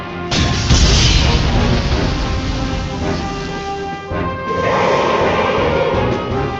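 Cannon firing in the video game Xenosaga Episode I: a loud booming blast that rolls into a sustained roar, with a second surge of force a few seconds later.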